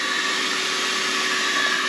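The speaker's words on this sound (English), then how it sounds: "we have our vacuum system that we use to clean the van when we're doing a really thorough clean. It's a Rainbow." A Rainbow water-filtration vacuum cleaner, about 35 years old, runs with a steady loud whooshing whine, constant and close, with no speech.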